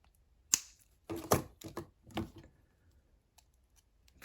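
Wire cutters trimming wire on a wire-wrapped heart pendant: a few sharp, quiet snips and clicks close by, spaced unevenly with short silences between.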